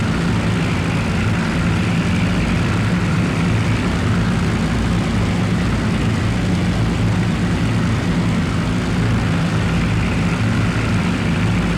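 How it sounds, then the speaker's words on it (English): Three-engine Junkers 52 transport plane in the flight game IL-2 Sturmovik Great Battles, a continuous loud droning propeller engine roar, steady throughout with no voices. "so that makes Junkers 52 the most multi-engined plane in the game"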